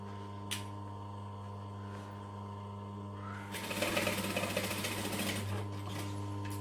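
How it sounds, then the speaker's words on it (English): A sewing machine back stitching at both ends of a seam on a bag base, a steady mechanical hum with a busier burst of rapid needle clatter in the middle, close and alone with no talk. "So I'm back stitching at both ends."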